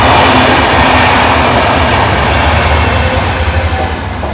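A train rolls past a village cattle shed on a busy line, its loud steady rumble and rattling wheels filling the whole stretch with no voices over it.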